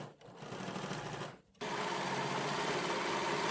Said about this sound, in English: We can pop over to the sewing machine, sew the seam together